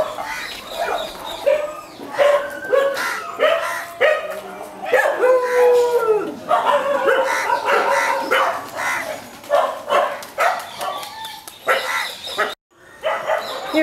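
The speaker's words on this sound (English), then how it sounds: "Here we have some of the permanent residents, the canine residents of the VSPCA" Permanent resident dogs at an Indian animal shelter howl, bark and yip together in the evening, a loud, continuous, overlapping chorus from many animals.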